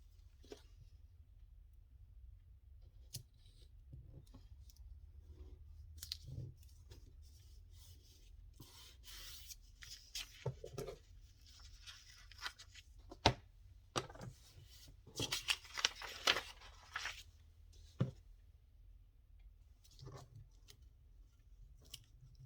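Scissors snip through journal paper in a quiet room, making soft rubbing and rasping cuts with a few sharper clicks scattered through the middle, close and faint, with no talking.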